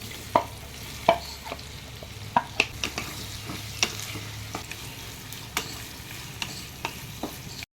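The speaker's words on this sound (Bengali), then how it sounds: "এবার আমি এর মধ্যে পেঁয়াজগুলোকে ফ্রাই করে নেব।" Onions frying in oil in a pan for chicken biryani, a steady low sizzle punctuated by sharp scraping clicks from repeated stirring, close and moderately quiet with no talk.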